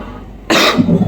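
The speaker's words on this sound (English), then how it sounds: "His cough seems like it's getting worse." A man with a worsening cough, linked to COPD, lets out a sudden loud, harsh cough close by that lasts about half a second and ends in a rough, raspy tail.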